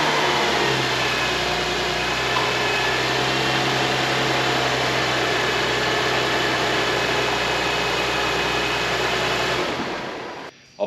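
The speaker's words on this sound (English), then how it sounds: "I'm gonna start the car, I'm gonna let it run for a minute," A Toyota car engine, one with a hard-to-press brake pedal, runs at a steady idle for about ten seconds, a continuous low hum with a faint background hiss, and then cuts off near the end.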